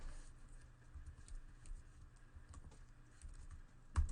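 Code is typed on a computer keyboard in quick, soft, uneven bursts of key clicks, close to the microphone and fairly quiet, ending with one sharper, louder tap; no one speaks.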